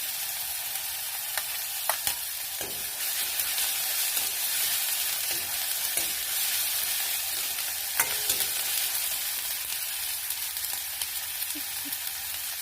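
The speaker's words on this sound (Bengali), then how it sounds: "তারপর আমি অ্যাড করবো আদা বাটাটা।" Ginger paste fries in a pan of onions and spices for a katla fish tomato gravy, giving a continuous close sizzle. Scattered scraping clicks from a spatula stirring it break through the hiss, and no one speaks.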